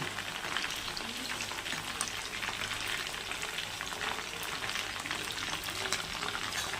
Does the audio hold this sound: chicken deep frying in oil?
yes